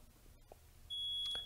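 A single high electronic beep from an ADDS Regent 200 data terminal at power-on sounds clearly against a quiet background, held for about half a second.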